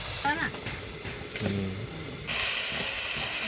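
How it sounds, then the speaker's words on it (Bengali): Raw green tomatoes cooking in a pan give a steady sizzling hiss that grows louder partway through, with faint stirring and a few brief voice sounds underneath. "এই যে কাঁচা টমেটো রান্না হচ্ছে, কাঁচা টমেটো।"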